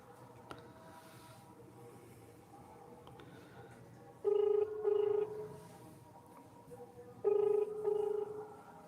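A telephone ringback tone sounds in two paired bursts, each a double ring, repeating after a pause over a faint background hum.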